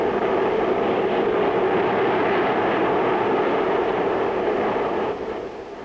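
A large airliner flies over a wintry Indiana landscape in 1960 after departing Midway, heard as a loud, steady broadband engine drone that eases slightly near the end.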